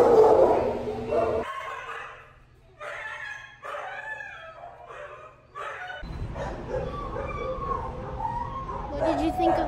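Dogs at an animal shelter bark and whimper in short bursts mixed with yips, heard beside people talking at close range in a reverberant kennel space.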